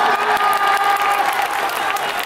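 A packed stadium crowd at a Tokyo Yakult Swallows versus Chunichi Dragons opening-day baseball game cheers and applauds continuously, a dense, steady roar of clapping and shouting with no pauses.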